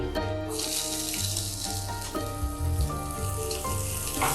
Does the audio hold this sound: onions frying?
yes